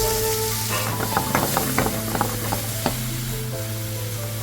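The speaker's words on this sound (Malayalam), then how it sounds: "എണ്ണ ഒഴിക്കുന്നേ" Oil poured into a hot tawa over frying fish in a large busy kitchen, a steady sizzle with scraping, clinking stir sounds and a low kitchen hum beneath.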